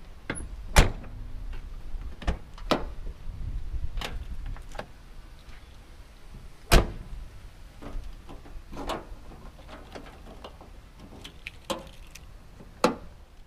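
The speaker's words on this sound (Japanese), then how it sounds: "鍵は一つ一つのドアから閉めなくてはいけません。" The doors of a 1984 Suzuki Fronte 550 SS40 are locked one by one, giving a series of sharp clicks and thumps spaced irregularly over several seconds. Between them there is only quiet outdoor background, with no talking.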